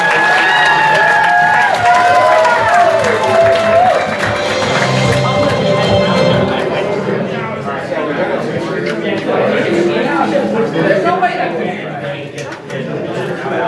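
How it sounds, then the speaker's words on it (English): Audience at an anime convention game show panel clapping and cheering, with high whoops at first and then a steady wash of applause and crowd chatter that slowly thins out. "Round of applause one more time."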